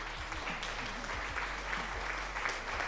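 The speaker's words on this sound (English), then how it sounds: "Why are we applauding?" Scattered applause from a small group of people, a steady wash of clapping at low to moderate volume that carries on for a few seconds, with a low hum underneath.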